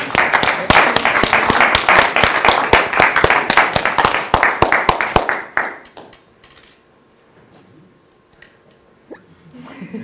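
Audience applause for a prize winner at a regional science-communication thesis final, loud dense clapping for about five seconds, then cutting off into near silence with faint room noise.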